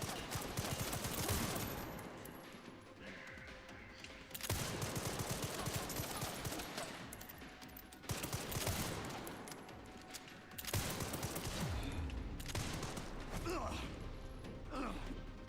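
Gunfire in the survival horror video game Resident Evil Requiem, heard as dense, loud bursts of shots and mechanical clatter that continue through most of the stretch, with short breaks between the bursts.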